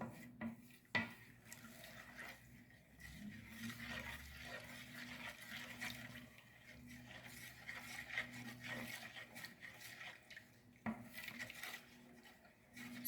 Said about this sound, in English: Mix it together until it dissolves.